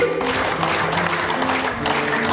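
Vigorous, continuous clapping from a packed conference audience, many hands blending into one loud, even roar that starts at full strength and holds.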